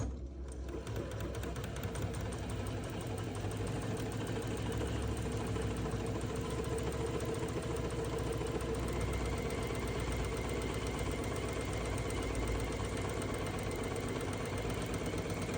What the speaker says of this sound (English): now we're just going to sew a nice 1/4-inch seam